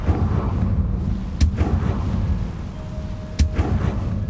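Two crisp, loud blasts from a Confringo spell in Hogwarts Legacy crack about two seconds apart over a steady rumbling game ambience.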